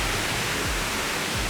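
Ganoga Falls in Ricketts Glen, heard from a distance, gives a steady, broadband rushing roar of falling water, constant and fairly loud with no talk.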